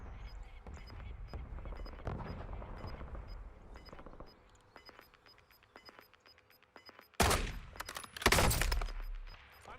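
Gunfire in the Warzone video game: distant scattered shots and rattling bursts, then two loud, close reports near the end.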